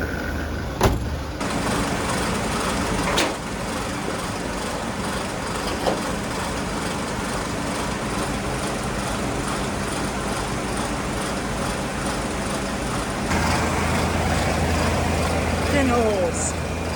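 A 1970s van's old engine idles roughly and clatters steadily under the hood, a continuous low rumble with occasional knocks, close by and loud throughout, while people talk over it.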